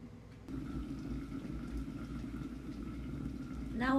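A pot of peas and stuffed globe artichokes simmers on low heat, giving a steady, soft bubbling that continues throughout and grows slightly louder near the end.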